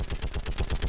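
Rapid automatic gunfire in Mass Effect 3, a steady rhythmic stream of about a dozen sharp shots in one second, loud and close.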